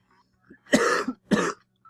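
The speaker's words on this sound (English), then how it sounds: "I don't mean to cough." Two sharp, close coughs in quick succession, each a harsh burst, with near silence around them.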